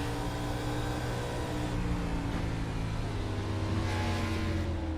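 The onboard engine of a race car at a scrambler-series event drones with a steady tonal hum, running at a constant pitch without revving up.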